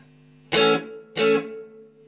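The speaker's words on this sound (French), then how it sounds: "Là j'ai de la reverb." Channel one of a Fender Super Champ XD amplifier with reverb switched on: two strummed guitar chords, each ringing out and fading into a smooth reverb tail, alone.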